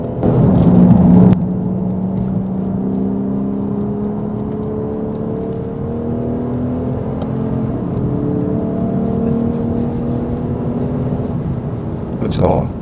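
A Lexus RC F engine drones steadily on a race track, close and loud, with rising and falling tones as it pulls through the gears. A sharp burst sounds at the start.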